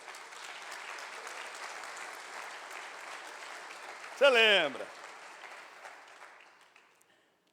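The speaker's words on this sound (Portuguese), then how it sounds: "As palmas para ele" Congregation clapping in a church fills the space steadily for several seconds, swelling briefly near the end before fading out, with a voice speaking over it.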